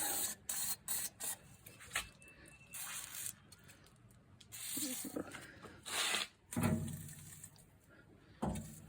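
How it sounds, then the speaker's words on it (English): Short hissing bursts of WD-40 lubricant sprayed onto a Venco pottery wheel chassis during grommet replacement, several quick close sprays repeated through the clip with clanks of handling between them. "I'm just going to spray a little bit of WD-40 on places where I've got to work."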